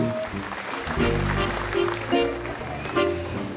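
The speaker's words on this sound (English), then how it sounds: "give them all a big round of applause" Audience at a dairy princess coronation ceremony applauding finalists' parents, a brief round of clapping mixed with music and a voice speaking over it.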